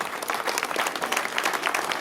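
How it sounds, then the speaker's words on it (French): An audience applauds after a speaker at an officials' event, a dense, steady patter of many hands clapping at moderate distance, with no voices over it. "Et eux, on peut les applaudir aussi"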